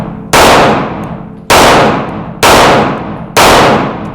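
A Grand Power Q1 Mk23 pistol fitted with a red dot sight fires four loud, sharp shots at a steady pace, each crack trailing off into a short ringing decay before the next.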